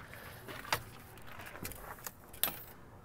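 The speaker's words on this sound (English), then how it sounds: "grab the keys here." Keys jangle in a few short metallic bursts as they are picked up beside a 2003 Ford F250 diesel truck, with quiet background between the clinks.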